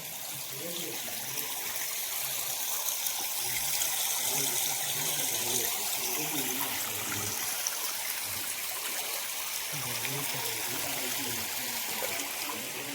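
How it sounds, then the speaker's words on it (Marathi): Water flowing at a hillside temple spring, a constant close trickle and gurgle under a person's voice as they talk over it. "पाणी आहे."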